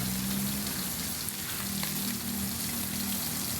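Fish sizzling and crackling in hot oil in a pan, a dense, steady frying hiss with fine popping, close and continuous with no talking.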